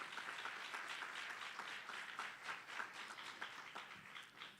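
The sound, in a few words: audience applause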